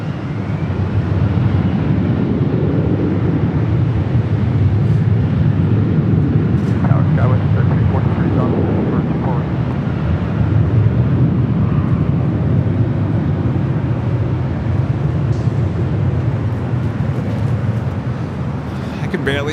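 Jet airliner taking off from runway 24 left at LAX, a steady, loud broadband roar with low rumble holding throughout, fairly distant and continuous, with faint background activity around it.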